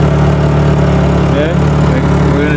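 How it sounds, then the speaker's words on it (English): Original car engine idling steadily with an exhaust leak at the resonator, a loud, close, continuous low rumble with a faint ticking edge and no pauses. "We got exhaust leaks on that resonator right there."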